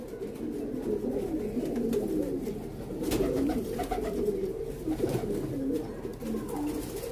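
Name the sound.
pigeons cooing after being released from the loft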